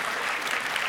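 Lecture audience clapping, a dense, even burst of applause from many hands filling the room, loud and close throughout.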